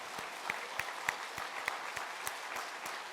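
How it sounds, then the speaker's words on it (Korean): Sustained applause from a church congregation after a choir performance, dense and steady with a few sharper claps standing out, fairly close and continuing throughout. "우리 뜨겁게 박수로 격려하겠습니다"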